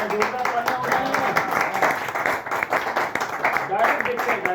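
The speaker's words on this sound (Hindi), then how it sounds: "जोरदार तालियां हो जाए।" An audience at a chemical-free product demonstration training in Agra breaks into loud applause, uneven bursts of clapping that rise and dip, with voices mixed in.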